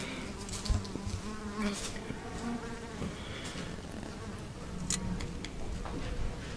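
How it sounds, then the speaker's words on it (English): A big mound of bees nested on top of a feed grinder during a colony removal produces a continuous swarm buzz, steady and fairly soft, with slight swells in intensity. "That's a lot of bees."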